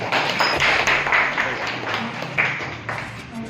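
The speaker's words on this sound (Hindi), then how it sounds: "मैं चाहूँगा एक बार आप लोग ताली बजा के उनका स्वागत करते हैं।" An audience at an Unnati Party gathering claps steadily to welcome Hiren, the newly appointed state president, a dense sustained round of applause filling the hall with no talk over it.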